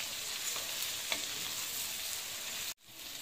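Tomatoes sautéing in a pan for tomato thokku, a soft, steady sizzle with a couple of faint stirring taps, fairly quiet and cut off abruptly near the end.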